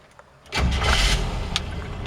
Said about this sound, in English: tapped the gas pedal twice, touched the key, she fires right up